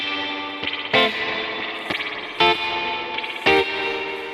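An electric guitar played through a Kemper Profiler with a slightly distorted tone, with the guitar volume knobs set to 5 and 6: ringing sustained chords struck in a loose rhythm, with muted scratchy ghost-note strums between them.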